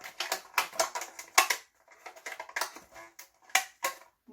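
Elastic bands stretched crosswise over a homemade string guitar give a run of short, bright plucked twangs and taps in an irregular rhythm, close up and fairly quiet, with brief gaps between bursts and no voices.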